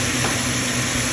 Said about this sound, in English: So basically I'm just gonna brown this meat